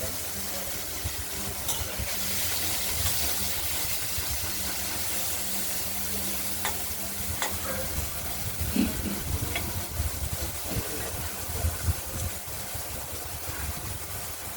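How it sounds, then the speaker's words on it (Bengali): Bitter gourd pieces frying in hot mustard oil in a wok give a steady, moderate sizzle with faint background hum and occasional clatters throughout, no voices. "কড়াইয়ের তেলটা গরম আগেই হয়ে গিয়েছিল, সেই উচ্ছেগুলো ভেজে নিলাম"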